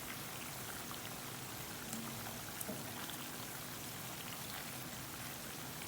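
Sliced onions fry in hot oil in a pan, giving a steady, dense sizzle that stays even and close throughout, with no one talking.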